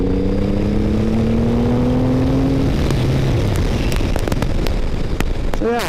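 A Triumph Rocket 3 GT motorcycle accelerating hard on an empty road, engine pitch climbing then easing off, followed by sharp pops and heavy wind rush.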